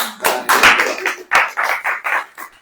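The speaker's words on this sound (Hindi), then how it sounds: "अब ताली हो जाएगी।" An audience at a church sermon claps in uneven bursts, loud and close, with several short rounds of applause in quick succession.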